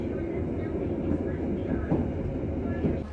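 The Rajabasa passenger train, hauled by a CC201 diesel locomotive, rolls into Prabu Mulih station with a steady, close, heavy rumble and faint rail clatter.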